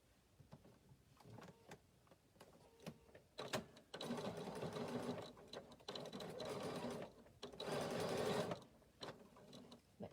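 A sewing machine stitching fabric lining runs in several sustained bursts of whirring motor and rapid needle clatter, close and fairly loud, separated by brief pauses and small handling clicks.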